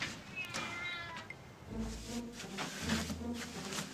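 A cat meows outdoors, faint and somewhat distant, with a couple of short calls over a steady hiss of background noise.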